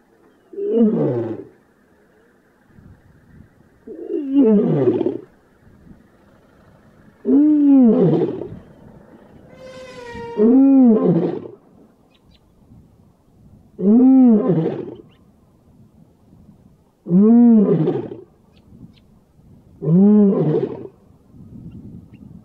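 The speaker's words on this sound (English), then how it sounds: "we heard this lion calling from some distance away" A large male lion roars in the Maasai Mara bush, heard from some distance: eight loud, evenly spaced roaring calls about every three seconds, each a deep moaning groan, with no talk.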